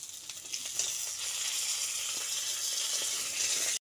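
Fish fries lightly in oil in a pan, making a steady close hiss and crackle that carries on evenly without a break, with no talking.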